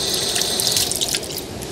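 Hands being washed under a running sink tap: a close, steady rush of water with small splashing spatters as the hands move through the stream, and no speech.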